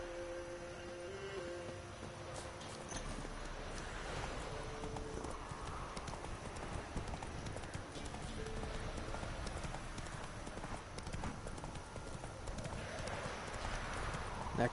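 Horse hooves clip-clop in a PS4 video game, a steady trotting rhythm running throughout under ambient game sounds, with occasional talk from a player over the top.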